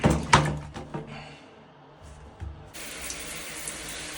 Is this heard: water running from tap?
yes